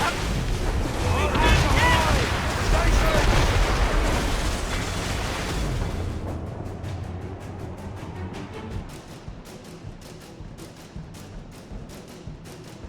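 Cannon fire during a naval battle in Assassin's Creed Rogue, a loud dense barrage of booming blasts for the first half, then scattered sharper bangs and crackles further off, with a shouted command heard over it.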